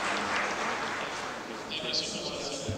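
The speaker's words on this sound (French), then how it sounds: "Il faut les applaudir." Audience applause at a CAF extraordinary general assembly, a dense, steady patter of many clapping hands filling the whole stretch at a moderate level.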